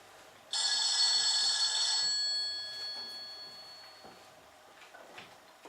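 A telephone bell rings loudly in one sustained burst of about a second and a half, then trails off, leaving a quiet room with faint rustles.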